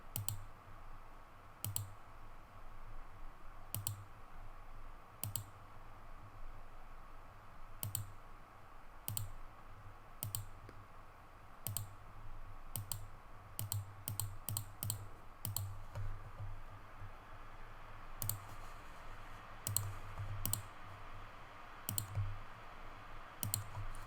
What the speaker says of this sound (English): I'm using the polygonal lasso, so I have to just click many times here.